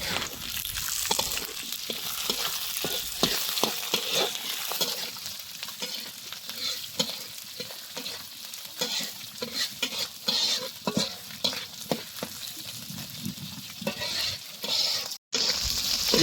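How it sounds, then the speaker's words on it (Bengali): Leafy greens cooking in a pan with roe-laden prawns, a loud continuous sizzle with constant stirring and scraping up close, briefly cut off near the end. "এবার হচ্ছে আমরা শাকটা রান্না করতেছি"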